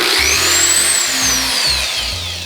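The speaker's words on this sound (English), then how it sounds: "we're going to just drill a single hole" A power drill bores a single hole in a DIY Audrey II plant build, its motor whining up and down in pitch over a steady buzzing drone, close and loud.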